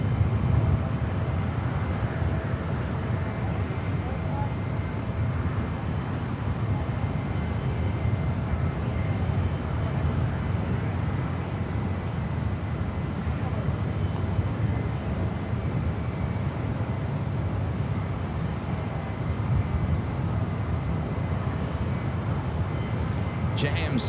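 An EVA Air airliner taxis out toward the 28 runways at San Francisco airport, its steady engine rumble running throughout under constant wind noise, moderately loud and distant-sounding.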